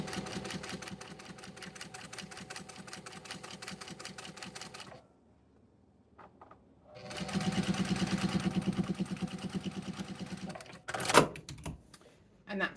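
A sewing machine stitches a dress side seam in a fast, rhythmic whir that runs for several seconds, stops briefly, then resumes, with soft handling noises and a person speaking quietly at times.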